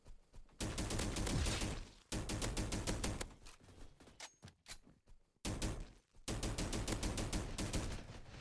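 A SCAR rifle in the video game Energy Assault fires in long, rapid bursts of loud, tightly spaced shots, broken by a few short pauses between volleys.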